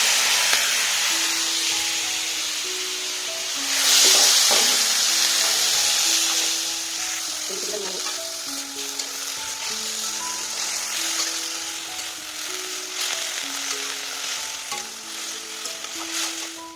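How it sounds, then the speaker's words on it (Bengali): Vegetables salted and dusted with turmeric fry in a little oil in a hot wok for khichuri, sizzling steadily up close as they are stirred. The sizzle flares louder around the fourth second, with a soft melodic tone running underneath. "এখন এখানে তেল দিয়ে সবজিটা একটু ভেজে নেব।"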